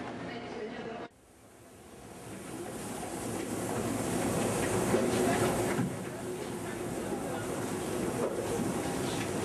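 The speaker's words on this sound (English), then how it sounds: "she rushes to catch a New Jersey transit train, which she will ride all the way to the end of the line in Trenton" A New Jersey Transit commuter train runs along the line toward Trenton. After a brief cut, a steady onboard rumble swells and holds, with rolling rail noise and faint clicks.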